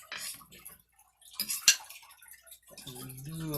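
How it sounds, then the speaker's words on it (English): A big serving spoon scrapes and clinks against a dish while scooping rice beside steak and broccoli veggie bake, a few sharp metallic taps standing out in a quiet kitchen, with a brief murmur of speech near the end. "I brought a big old spoon to serve it up"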